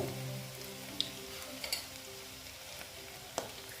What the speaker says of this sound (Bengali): আমার প্রায় ভাজাটা মোটামুটি হয়ে গেছে এইবার আমি একটা একটা করে তুলে নেব